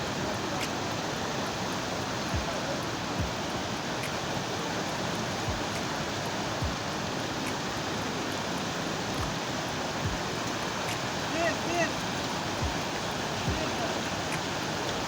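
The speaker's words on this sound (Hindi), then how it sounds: "पानी भी बहुत तेज़ है।" A fast, fierce mountain stream runs near a waterfall on a trail toward Katora Lake, a steady close broadband roar of rushing water that fills the whole stretch without letting up.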